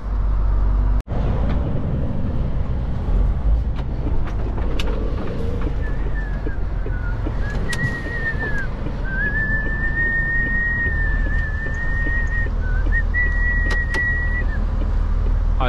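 A car accelerates on the road, its engine a steady low rumble throughout, with a sharp click near the start and someone whistling a tune over it in the second half.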